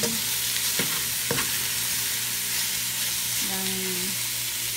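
Browned garlic and vegetable ingredients sauté in a pan for chop suey, a continuous sizzle broken by a few sharp utensil knocks and stirring scrapes, with a brief tonal squeak near the end.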